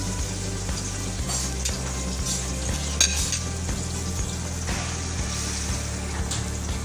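Onion and capsicum lightly frying in a pan for a chilli garlic prawn dish, a steady low sizzle with soft stirring scrapes running continuously, no voices.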